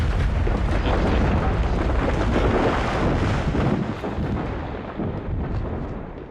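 Dense, roaring rumble of an explosion destroying a bridge in the video game Dungeon Siege 3, sustained and loud before slowly tapering off.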